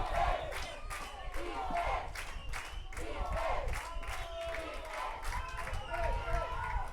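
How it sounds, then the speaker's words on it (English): Finland supporters cheer at a football match, a steady roar of distant crowd noise with scattered shouts and claps that stays fairly even throughout. "Finland cheering is coming up."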